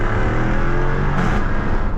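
A Jaguar F-Type with a supercharged V8 revs hard and loud close by, a dense, sustained roar that holds steady for about two seconds with no voices.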